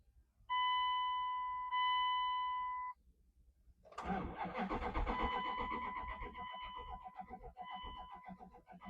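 A Dodge Durango engine cranks in two steady bursts, pauses, then catches and starts, running roughly and unevenly after sitting unused for ten years.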